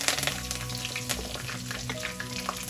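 Curry leaves hit hot oil in a pan, following whole spices and fennel for a chicken gravy, giving a dense, steady crackling sizzle with sharp pops throughout and no talking.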